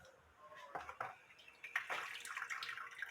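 Water draining out of cooked vermicelli noodles being prepared for Moroccan seffa, a splashing, pouring rush that swells in bursts and grows steadier toward the end, close and moderately loud.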